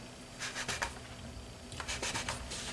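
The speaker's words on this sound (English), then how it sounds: "we'll make those like a 4-inch cookie cutter, and we'll cut all our rounds" Pastry rounds cut with a 4-inch cookie cutter, a few faint, soft scraping and pressing strokes in two quiet clusters, close and without talk.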